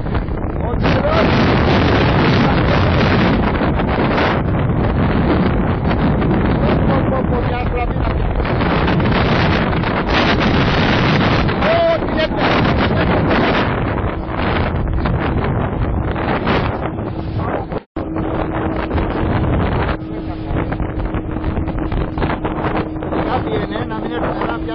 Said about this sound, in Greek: Σήμερα πολύ βροχή, μεγάλα μπουρίγια